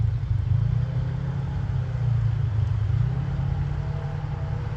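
A Jeep engine rumbles steadily at low revs while crawling off-road on big tires, a continuous close drone with slight swells and no voices.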